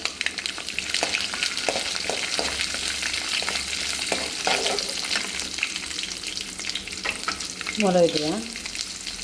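Chana dal, urad dal and cumin fry in oil for masala poha, a steady close sizzle with stirring scrapes, a brief voice speaking near the end.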